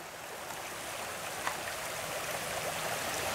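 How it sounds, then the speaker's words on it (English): A creek in the rain rushes strongly with a constant broadband roar of flowing water, steady and fairly near, with a faint patter of rain and a small knock partway through. "The creek is flowing strongly."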